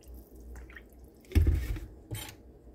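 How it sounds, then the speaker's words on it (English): Coffee drips from a brewer in a few soft, scattered drops with faint liquid trickles, quiet and close in an otherwise calm kitchen. "I'm just gonna let that drip out"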